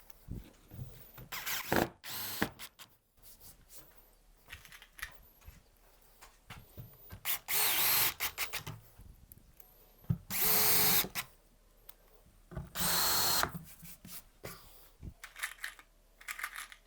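A power drill drives screws into a wooden workbench in several bursts of whirring, interspersed with quieter handling clatter and pauses.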